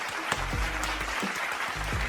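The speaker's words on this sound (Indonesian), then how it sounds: "Tepuk tangan buat kita semua" Applause from a small group celebrating after cleaning and organizing a bookshelf, sparse claps with a low rumbling hum underneath, fairly close and brief.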